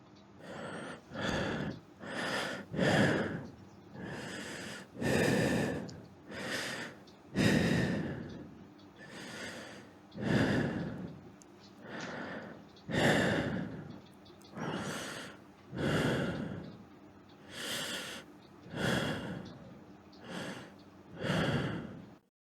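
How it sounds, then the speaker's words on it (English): A person breathes heavily and audibly up close, with repeated deep inhales and exhales that include sighs and gasps, in a steady rhythm of about fourteen breaths. "Have you ever heard someone's breath?"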